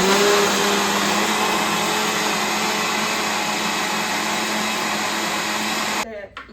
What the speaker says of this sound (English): all you have to do now is just blend it for 1 minute